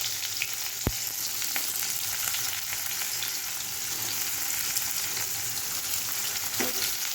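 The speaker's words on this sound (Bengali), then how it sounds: "এটা ভাজতে হবে" Onion and dried red chilies with bay leaf frying in hot oil for biryani, a dense continuous sizzle up close with an occasional faint tap of stirring and no talk.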